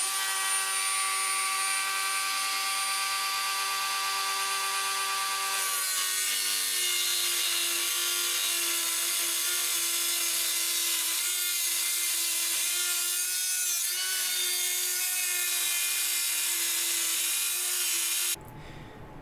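A power saw steadily cutting through side panels during a build, a continuous high whining grind that holds for about eighteen seconds before stopping abruptly.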